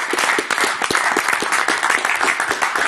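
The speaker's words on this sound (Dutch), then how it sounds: "Applaus voor Roelaren." A television sports show's studio audience claps in a close, dense burst of applause, loud and even for a few seconds, with no talk over it.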